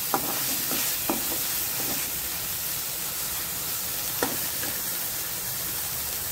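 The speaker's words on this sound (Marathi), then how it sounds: "आता आपल्याला मसाला छानपैकी भाजून घ्यायचा आहे." Masala cooks in a hot pan with a little added water for a jackfruit curry, giving a steady close sizzle and hiss, with a few scraping stirs of a spoon.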